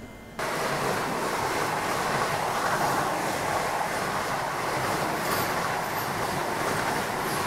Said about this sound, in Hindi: अब ये कौन सी वंदे भारत थी पता नहीं, शायद चेन्नई विजयवाड़ा थी, पता नहीं कौन सी थी, पर ये ओवरटेक कर गई हमें